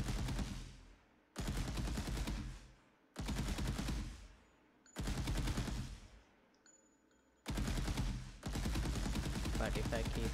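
Automatic gunfire in an Unreal Engine third-person shooter game, loud sustained bursts that start and stop abruptly, about six sprays in a row with short gaps of quiet between them.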